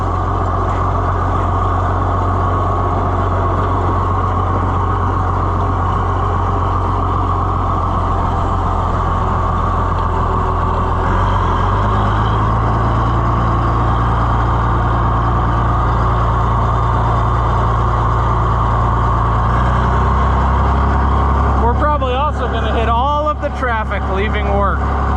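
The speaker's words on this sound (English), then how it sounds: "Traffic leaving work." Traffic of cars and trucks leaving work rumbles past as a continuous low engine drone heard from inside a cab, loud and steady, with a voice talking over it toward the end.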